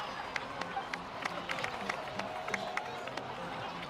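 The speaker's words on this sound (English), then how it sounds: "please give another round of applause for them." A crowd in a video game cutscene breaks into a round of applause, steady dense clapping with sharp individual claps standing out, mixed with light cheering and talk.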